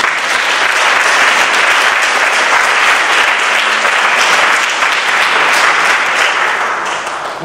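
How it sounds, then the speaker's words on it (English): An audience at an adult education graduation ceremony bursts into loud, sustained applause, a dense crowd of clapping hands that holds steady and eases off slightly at the end. "I think that's worth a clap."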